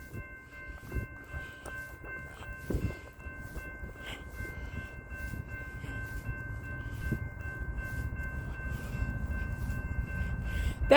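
A BNSF double-stack freight train led by locomotives 8519 and 7271 rolls by on the Marceline Subdivision, a steady heavy rumble that gradually swells louder over the whole stretch, with no voices.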